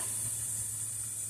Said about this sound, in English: So I'm just going to saute this up